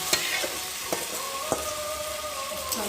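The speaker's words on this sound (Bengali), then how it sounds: "এখন এই যে মেরিনেট করে রাখা চিকেনটাকে দিয়ে ভালো করে কষিয়ে নেব।" Marinated chicken with sour yogurt fries among browned onions in a pan, a steady close sizzle broken by sharp spoon knocks and scrapes every second or so as it is stirred.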